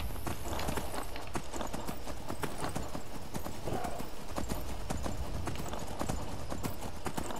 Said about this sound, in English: We're gonna ride the horse straight over there.